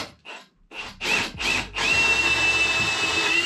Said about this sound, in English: I'm going to take this nice long pilot bit and drill a hole even with the outside